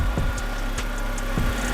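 Honda Civic engine idling after a head gasket rebuild, with a steady low hum and light, regular ticking from the fuel injectors repeating about every fraction of a second.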